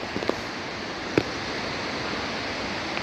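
A waterfall pours down from a glacier high in the mountains on a rainy day, a constant broad rushing roar at moderate distance with a couple of faint knocks over it and no voices.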